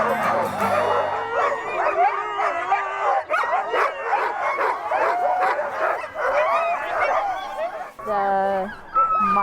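Sled dogs at a Northern Minnesota mushing stop bark, yip, whimper and howl in a dense, overlapping chorus close by, with a few people talking among them.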